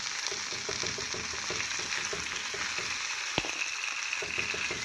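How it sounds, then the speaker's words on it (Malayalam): Beef roasting Malabar style in a pan, a dense, continuous sizzle and crackle of frying with faint rhythmic stirring scrapes and one sharp clink, close and steady with no talking. "ബീഫ് ഇട്ട് നന്നായിട്ട് റോസ്റ്റ് ചെയ്തെടുക്കാം"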